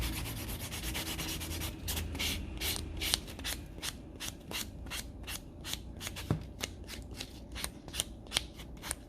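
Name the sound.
sanding buffer filing down artificial nail tip edge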